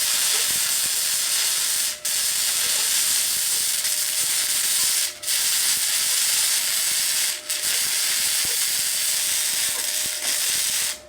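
Gasless flux-core welding at the same settings as a first attempt, a steady loud crackling hiss that runs in long bursts with brief pauses between beads, no talking over it.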